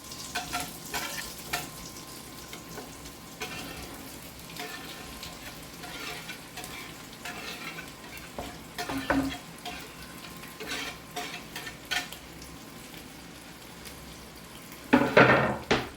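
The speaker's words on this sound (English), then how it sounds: "Right, into the skillet with the onions." Onions sauté in butter and olive oil in a skillet, giving a steady soft sizzle with stirring and clinks throughout, and a louder burst of scraping near the end.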